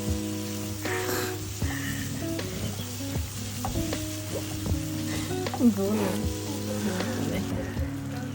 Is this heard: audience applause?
no